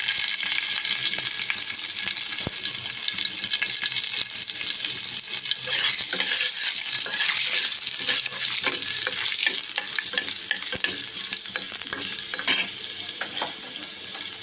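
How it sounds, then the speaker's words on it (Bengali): Garlic sizzles in hot oil with a little dried red chili and nigella seeds, a constant bright crackling fry with occasional stirring scrapes and splutters, close and loud with no talking. "এবার দিয়ে দেবো রসুন একটু তেলের মধ্যে"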